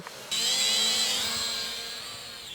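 A small drone's steady high-pitched motorized whine starts abruptly and holds loud and close, slowly wavering in pitch like small propellers spinning.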